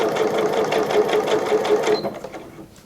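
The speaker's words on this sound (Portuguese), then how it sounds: "Em partes que são arredondadas, vá com a máquina bem devagar" A sewing machine stitches a custom bag in a fast, even run of needle strokes, then stops and fades into quiet near the end. No one speaks.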